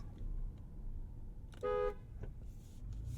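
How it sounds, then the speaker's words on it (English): A 2022 Ford Expedition Stealth Pack sounds one short, loud, steady horn blast partway through, set against a low background rumble. "It's a good horn. Powerful."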